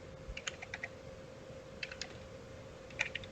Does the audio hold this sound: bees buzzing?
no